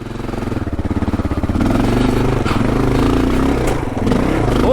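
A KLR adventure motorcycle engine labors up a steep, muddy, rutted trail, a loud close thumping single-cylinder drone that rises and holds under throttle, with faint clatter and scraping.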